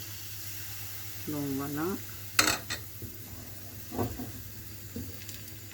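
Crêpe batter ladled into a hot pan, a soft pour and brief hiss, then clinks of utensil against the pan; a person speaks briefly over it.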